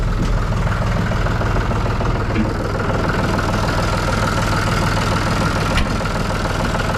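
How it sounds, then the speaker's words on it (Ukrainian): A John Deere 5065E tractor's diesel engine idles steadily and smoothly, a low, even rumble with a constant rhythm, close by and with no pauses. "Така досить приємна робота двигуна, м'ягенько робить, рівненько."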